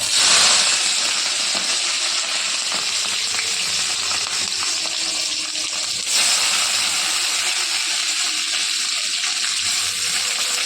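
Onion and black cumin sizzle in a hot pan for barbati bata, a steady bright hiss running throughout with a brief flare near the start and another surge midway.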